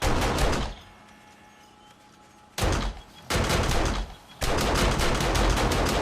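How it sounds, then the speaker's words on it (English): Automated turrets in the zombie survival game 7 Days to Die open fire on a horde, giving loud, dense bursts of rapid gunfire separated by short pauses, close and dominant with no talking. "Now they're out there far enough, they're going to get hit by those turrets."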